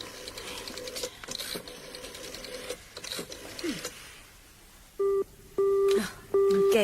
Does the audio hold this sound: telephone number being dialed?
yes